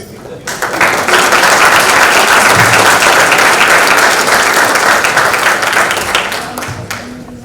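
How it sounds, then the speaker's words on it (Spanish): Loud, sustained applause from a lecture audience, clapping steadily for several seconds before tapering off slightly at the end. "pedimos un fuerte aplauso"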